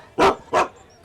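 Two sharp, close dog barks in quick succession, each brief and loud, followed by quiet, with no talking over them.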